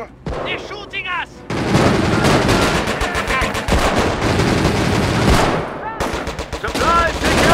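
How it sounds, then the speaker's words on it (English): Sustained gunfire in the Company of Heroes Blitzkrieg mod, dense machine-gun bursts and rifle shots rattling loudly and almost continuously, with short game voice lines heard near the start and end. "They're shooting us."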